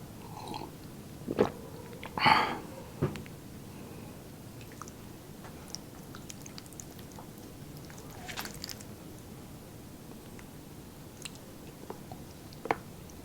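Someone chews and crunches through spicy humba and giant crab during a mukbang, with a few loud close bites and crunches early on, then softer intermittent chewing and small squishes.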